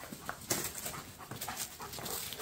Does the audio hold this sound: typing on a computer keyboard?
no